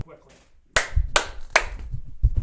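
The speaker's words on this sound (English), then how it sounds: "Clap, clap, clap. Snap, snap." Three sharp, evenly spaced hand claps ring out close and loud in a quiet room, each followed by a short decay, with a soft voice just before and a lighter snap-like tap at the end.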